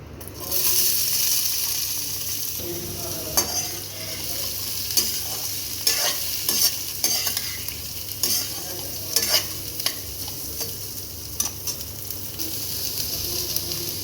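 Shallots and small pieces of raw mango fry in a pan with a loud, steady sizzle and repeated scraping stirs of a spatula, heard close with no voices.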